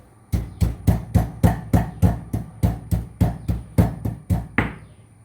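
Fried dried mackerel is pounded by hand in a steady rhythm of about sixteen heavy, close thuds, evenly spaced and alone without talk.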